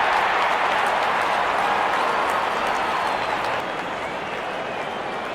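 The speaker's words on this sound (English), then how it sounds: "the crowd cheering in anticipation" Steady crowd roar with scattered clapping in a Real Cricket video game stadium before the first ball of an IPL match, RCB against LSG, a dense continuous wash of cheering that eases slightly toward the end.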